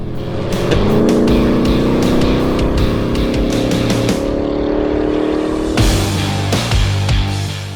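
A 2024 Ford Mustang Dark Horse fastback with a 5.0-litre V8 and automatic gearbox revs loudly and close by, a steady, strong engine roar with sharp, brief blips, no talking.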